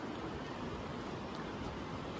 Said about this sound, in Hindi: अभी ना बारिश स्टार्ट हो गई